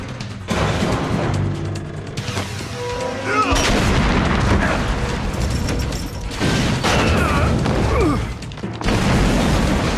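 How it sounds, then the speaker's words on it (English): Loud booming explosions and crashing blasts in the video game Metal Gear Solid: The Twin Snakes, with rumbling, mechanical noise and layered effects filling the whole stretch. "These are the explosions that don't kill people."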